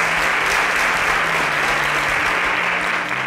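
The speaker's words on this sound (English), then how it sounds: "A round of applause for them as they exit the stage." A studio audience claps as five contestants leave the stage of a televised competition with educational prize money at stake, the applause loud and continuous, a thick wash of hands at a constant level from start to finish.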